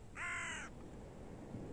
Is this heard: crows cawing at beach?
yes